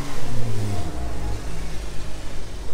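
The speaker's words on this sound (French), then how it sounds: "Une très jolie turbo qui passe ici" A Porsche 911 Turbo S of the 991 generation drives past close by, its engine note rising and then fading under a rough, wind-buffeted rumble, with no talking.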